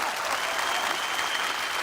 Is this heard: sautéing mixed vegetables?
no